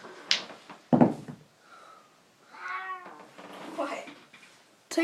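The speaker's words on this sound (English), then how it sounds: "That cat is on catnip." A house cat high on catnip gives several drawn-out, wavering meows up close, broken by brief knocks and rustles in an indoor room.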